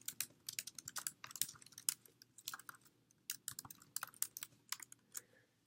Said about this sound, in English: in here I can just type,